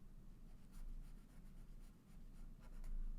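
Marker or pen sketching a graph curve by hand on a board during a logarithm lesson, a soft continuous scratchy stroke with brief squeaky bursts, close and alone.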